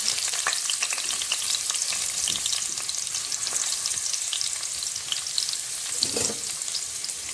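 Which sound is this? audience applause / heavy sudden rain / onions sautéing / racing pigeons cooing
onions sautéing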